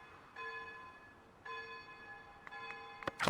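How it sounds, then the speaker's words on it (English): Church bells ringing in the medieval village-building game Foundation: two clear bell strikes with long ringing tones, followed by quicker chimes and a closing clatter, alone and moderately loud. "ring the bells."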